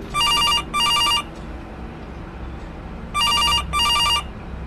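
A telephone rings in a FNAF-style horror video game, two pairs of bright electronic trills, a double ring, a pause, then another double ring, clear and close over a low background hum.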